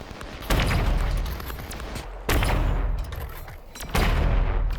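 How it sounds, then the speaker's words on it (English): Gas cannon fire in Half-Life: Alyx hits enemies: three loud, heavy blasts about two seconds apart, each followed by a sustained roaring wash of noise that barely fades before the next. "Now I can use the gas cannon to shoot some enemies."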